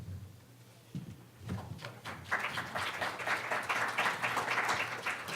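A conference audience applauds after a speaker is introduced, starting with a few scattered claps and building into steady, fairly distant applause that fills the room.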